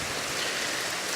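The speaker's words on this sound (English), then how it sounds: "it's kind of rainy" Steady broadband hiss of rain falling on a rainy day, a dense, even wash with no breaks or voices, close and fairly loud throughout a short stretch.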